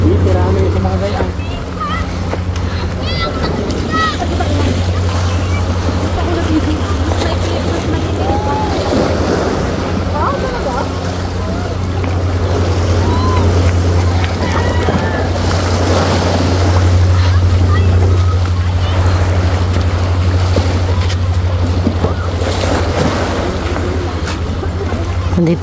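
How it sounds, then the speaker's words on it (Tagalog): Surf washing onto a beach, a steady roar of waves mixed with wind buffeting the microphone and a low engine-like drone, with people chatting nearby throughout. "Nandito tayo sa playa."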